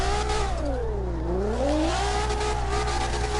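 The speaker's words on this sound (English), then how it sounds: "Listen to that beautiful R35 roar, that engine sounding so good here." Nissan R35 engine roaring in the CarX Drift Racing online game, a loud continuous drone that dips in pitch and then swells back up as the car transitions through a drift.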